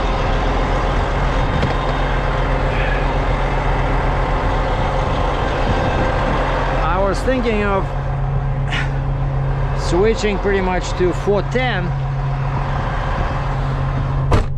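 Pickup truck driving, a constant low engine and road drone running the whole time beneath someone talking close to the microphone.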